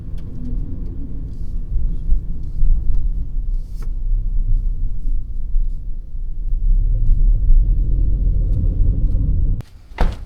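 A car drives along a road in Japan, heard from inside the cabin as a steady low engine and road rumble that swells gradually, then cuts off with a sharp knock near the end.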